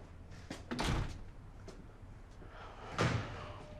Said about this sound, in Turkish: kapıyı çek.